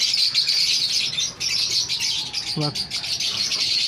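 Fischer's lovebirds from a breeding colony chirp in steady high-pitched bursts, with one brief louder call near the end.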